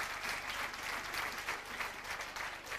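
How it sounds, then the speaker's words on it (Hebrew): Stormy applause from an audience at a kibbutz's 50th anniversary celebration after a dance performance, a dense, steady wash of many hands clapping that fills the whole stretch without a break. "מחיאות כפיים סוערות,"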